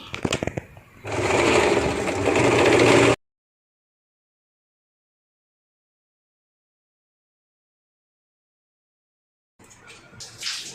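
A sewing machine stitches the corner of a kameez in one short, close run of whirring lasting about two seconds, followed by a long silence and faint handling sounds.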